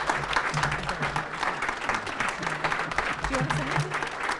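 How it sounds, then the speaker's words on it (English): Applause from an audience at a university sustainability institute's anniversary celebration: a steady, dense wash of clapping that holds through the whole stretch, fairly close and loud. "round of applause"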